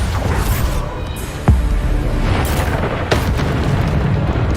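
A deep, booming Bombarda blasting-spell explosion in Hogwarts Legacy bursts out over dense combat noise, with another sharp blast following a moment later.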